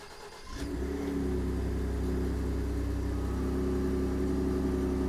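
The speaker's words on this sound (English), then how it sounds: "this car has been sitting all night, so let's take our remote starter" A 2018 Ford F-150 XLT SuperCrew pickup cranks briefly and fires up after sitting overnight, then settles into a steady, loud low idle that drones on without speech.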